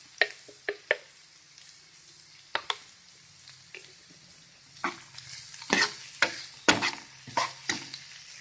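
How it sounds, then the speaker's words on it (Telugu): Onions frying in a pan with green chilli sauce, for chilli chicken, give a soft sizzle under irregular spoon stirs and scrapes that come faster and louder toward the end, close by. "ఇప్పుడు మనం గ్రీన్ చిల్లీ సాస్ వేసుకుందాం."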